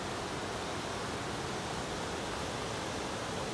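Steady, loud rushing of a jungle waterfall near Pai, Thailand, a dense broadband roar of falling water that stays constant throughout with no voices.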